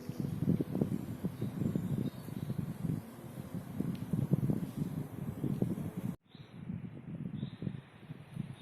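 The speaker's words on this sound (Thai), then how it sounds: "ลมแรงค่ะ" Strong wind blowing on a forested mountain trail in Czechia, gusty rustling rush that cuts out abruptly partway through and then resumes more faintly, with insect-like chirps in the background.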